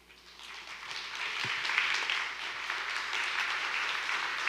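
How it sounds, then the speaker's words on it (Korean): An auditorium audience at a science forum lecture claps to welcome a professor to the stage, applause swelling from quiet to a steady, sustained roar of many hands, heard at a distance. "무대로 오르실 때 큰 박수로 맞이해 주시기 바랍니다."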